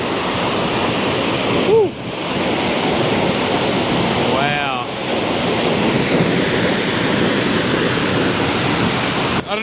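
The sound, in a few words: waterfall spraying water over a viewing platform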